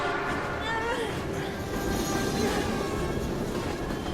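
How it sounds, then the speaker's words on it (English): A train rumbles past in the video game Heavy Rain, a loud continuous roar of wheels and rail noise with faint squealing tones, steady throughout with no talk over it. "We've gotta get on that train, Ethan."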